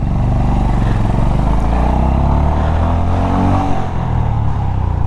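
A Honda H'ness CB350 motorcycle accelerates hard, its loud, close engine note rising steadily in pitch with a brief dip near the end, with no talking.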